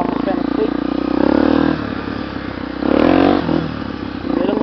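A Honda Tornado 300cc motorcycle fitted with a Maxon turbo exhaust tip revs in loud, close bursts, its rough engine note rising and falling in pulses with some clattering mixed in.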